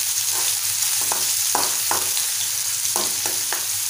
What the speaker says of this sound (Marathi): तेल गरम झालंय, आपण बारीक चिरलेला कांदा घालूया